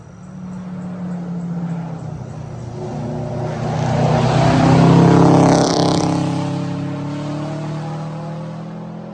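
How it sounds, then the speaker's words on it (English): Race car on a track approaching, roaring past close by, then pulling away with a rising upshift, engine note swelling loud in the middle before fading. "Another race car."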